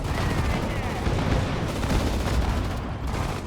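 Sustained gunfire and explosions from a Sudden Strike 4 Battle of Stalingrad battle, a dense continuous roar of shots and booms with shouted commands in Russian mixed in throughout.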